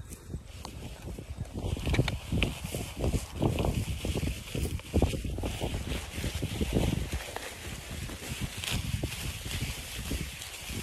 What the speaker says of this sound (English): it's actually quite windy